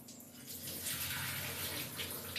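Soaked flattened rice (aval) is swished and washed in water in a bowl, giving a steady, close sloshing and splashing wash that runs continuously without pause.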